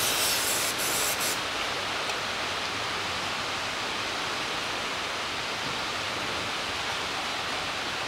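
Pressurized water spray hissing steadily under a 2015 Kia Rio 1.6 during an oil change, rinsing off spilled engine oil; broad continuous close-up spray noise with no voices.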